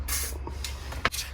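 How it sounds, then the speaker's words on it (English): A spray paint can hisses in short bursts as paint goes onto the front wheel of a 1998 Suzuki GSX-R 600 SRAD motorcycle at home. The bursts are fairly faint and over a low steady background hum. "Just spray it down here."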